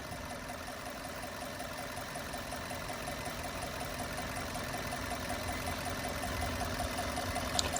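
An automatic Maruti Swift Dzire's engine idling after a carbon-cleaning treatment, a quiet, steady mechanical hum with a faint even drone and no clear rev changes, heard alone.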